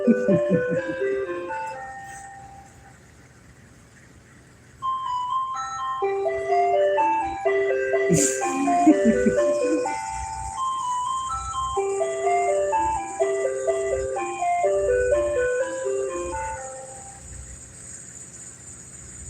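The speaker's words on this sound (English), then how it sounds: "Pardon the ice cream truck music" Melodic ice cream truck jingle playing in a loop, a bright tinkling tune that carries steadily for most of the stretch after a brief quieter gap, with faint street and vehicle noise underneath.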